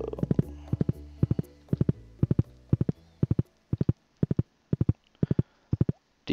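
Horse hooves clip-clopping while riding in the farming video game Stardew Valley, a steady rhythmic trot of paired beats, close and clear with no talk over it.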